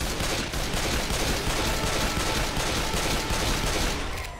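Dense, loud video-game gunfire, a continuous barrage of overlapping shots filling the whole stretch with no clear gaps, presented as sniper fire.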